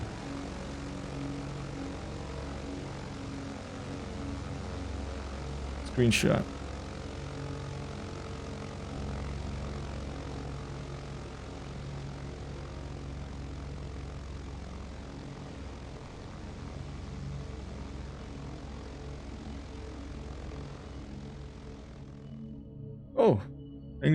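Steady drone of the twin propeller engines on a BN-2 Islander in Microsoft Flight Simulator, holding a constant pitch throughout, with a brief sharp sweep near the start, a short burst near the end, and faint talk underneath.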